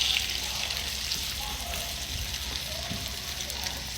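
White onions frying in a pan give a steady, soft sizzle with a faint crackle throughout, with low background voices now and then.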